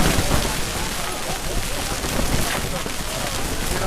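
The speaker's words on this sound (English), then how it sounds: "Now it's raining." Rain falling during a windstorm, a dense, steady hiss of drops with gusty broadband roar throughout, close and fairly loud.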